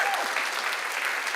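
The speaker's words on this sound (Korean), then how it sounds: "박수를 쳐야지 이럴 때." A short burst of church congregation applause, a steady wash of many hands clapping at moderate volume, heard briefly on its own.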